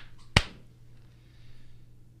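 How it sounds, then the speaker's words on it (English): A single sharp hand clap rings out once, close and loud, in a quiet room during a podcast recording, followed by near silence with a low steady hum. "Why did I clap?"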